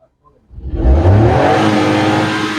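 A Suzuki Alto 800 engine, just repaired of a fault code, starts from near silence and revs up loudly under the accelerator, rising to a sustained close-up whirring roar.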